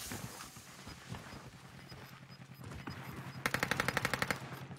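Submachine gun firing in a video game: after a few seconds of low background game noise and faint movement, a rapid burst of automatic shots rings out in an even, quick rhythm, fairly loud and close.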